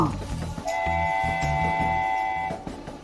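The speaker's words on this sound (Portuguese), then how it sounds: "Trem." Train sound with a sustained two-tone whistle or horn over a rhythmic chugging of wheels, loud and close, fading out at the end.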